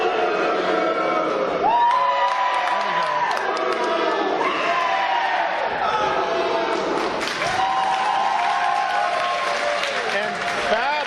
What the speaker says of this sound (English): the crowd chanting for Eric Young, let's go EY